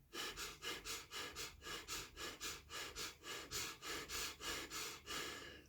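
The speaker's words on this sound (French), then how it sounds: "on inspire par le nez et on expire par le nez" Slow, steady nasal breathing during a morning breathing routine, in and out through the nose, about a dozen soft rhythmic cycles of inhale and exhale, close to the mic and quiet, with no talking.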